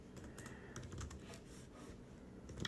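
Fast, steady typing on a computer keyboard while writing code, with quick light key clicks carrying on alone and no one talking.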